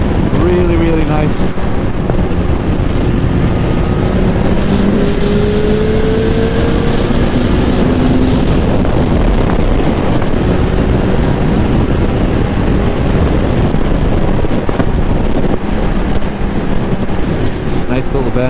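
A motorcycle with soft, bump-absorbing suspension rides along a bendy road, its engine droning steadily under loud, constant wind rush, with a rising and falling engine note through the bends.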